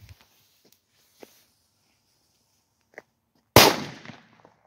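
A 100-piece Pirát firecracker string set off outdoors, heard as a few faint scattered pops followed by a single loud sharp blast that rings out in a decaying echo.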